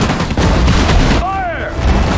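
Dense, loud battle noise from the World War II strategy game Sudden Strike 4, Battle of Hurtgen Forest, with continuous gunfire and explosions blending into a roar, and a unit's voice line over it.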